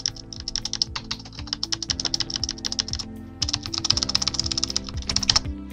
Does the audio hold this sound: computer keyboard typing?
yes